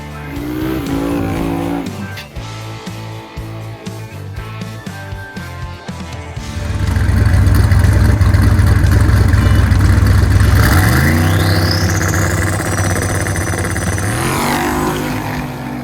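A Ford Falcon drag race car idles with a lumpy rumble, then launches into a loud, sustained roar that climbs through gear shifts before easing off, heard close and with no one talking.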